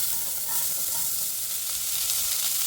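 Vegetables for an oxtail stew sizzle in a pan with a constant, dense frying hiss, close and even throughout, with no voices.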